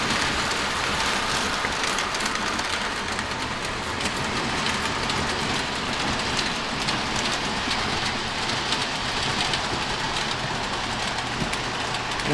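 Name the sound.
Lionel model train running on layout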